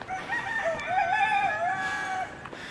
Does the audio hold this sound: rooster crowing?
yes